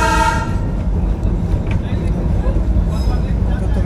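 The Darjeeling Himalayan toy train running on its narrow-gauge rails at slow speed, a loud continuous rumble and rattle close by, with a short horn-like tone at the start and a voice speaking over it.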